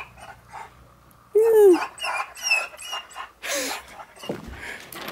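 A pet dog whines in a high, rising and falling whimper, then gives a few more whimpers and short yelps close by, with someone talking at times.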